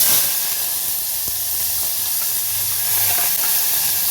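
Curry leaves and onion frying in hot oil make a steady, fairly loud hiss and sizzle with occasional light stirring clicks.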